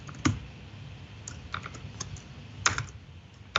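Typing on a computer keyboard during a dotnetConf 2016 coding demo: scattered, irregular key clicks over a steady background hum, fairly quiet, without speech.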